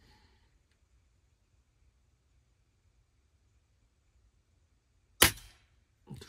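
A Snowpeak SP500 4.5 mm air pistol fires in a quiet wood: after near silence comes one sharp, close crack with a short tail, then a second fainter snap right after.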